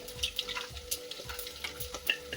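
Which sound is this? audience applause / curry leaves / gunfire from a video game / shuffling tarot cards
curry leaves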